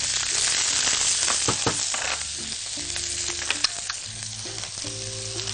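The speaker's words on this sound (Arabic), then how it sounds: "ونبدا ان احنا نشوحه مع بعض، ويا ريت البصل زي ما اتفقنا يكون رفيع جدا" Thinly sliced onions sauté in olive oil with a bright, close sizzle that eases slightly over the clip, broken by clinking utensil stirs and scrapes, with no talk.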